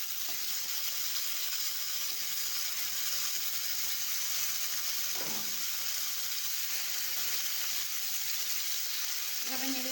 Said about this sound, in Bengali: এভাবে নেড়ে চেড়ে আলুটা একটু ভেজে নেব